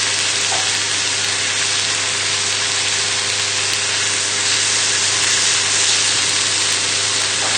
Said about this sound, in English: So all we want to do with these is just move them around the pan, trying to get a bit of heat onto them.